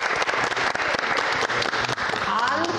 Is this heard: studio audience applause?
yes